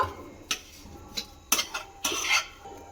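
Snack ingredients for a chicken and potato snack being mixed with Maggi masala and garam masala powder, heard as a few sharp scraping clinks of a spoon against a bowl, spaced irregularly with quiet gaps.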